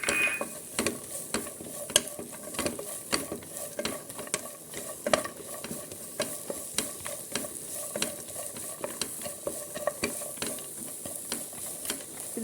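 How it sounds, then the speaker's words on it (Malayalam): Carrots and capsicum sautéing in melted butter in a pan, a steady close sizzle broken by frequent sharp scrapes and taps of a spoon stirring against the pan. "ഇതൊരു 5 മിനിറ്റ് സമയം വഴറ്റണം. ഇത് ക്യാരറ്റും ക്യാപ്സിക്കും വഴറ്റിയിട്ട്"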